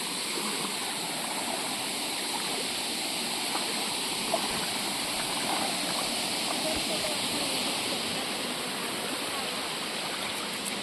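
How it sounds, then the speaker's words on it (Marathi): Steady rushing of a village stream flowing continuously at close range, a broad even wash of water with no breaks, where muddy feet are being rinsed. "आता इथं पाय धुवून घेतो आम्ही कारण की चिखलात आमचे पाय पूर्ण भरून गेले आहेत"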